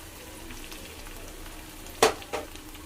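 Meat and spice paste frying in a pan make a soft, continuous sizzle, broken by two sharp clanks of a utensil against the pan near the end.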